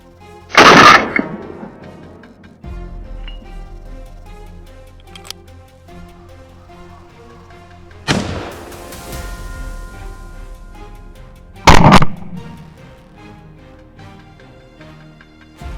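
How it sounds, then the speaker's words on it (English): Several sharp, loud gunshot bursts from a wild hog hunt in Texas near a cornfield ring out at irregular intervals, each trailing off into a brief echo, with quieter ambient noise between them. "A burst of gunfire rang out, cutting off its escape."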